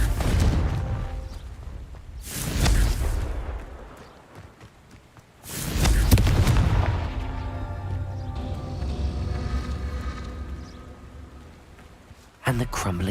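Confringo blasting spell explosions in Hogwarts Legacy, two loud booming blasts followed by rumbling debris, with a voice speaking between them.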